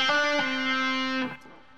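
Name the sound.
finger lifted off guitar string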